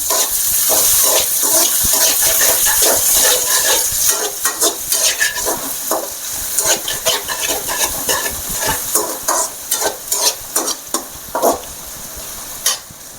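Tomatoes fry with a loud steady sizzle in a pan for masala egg rice, then sharp repeated scraping and stirring strokes break through the hiss in an irregular rhythm.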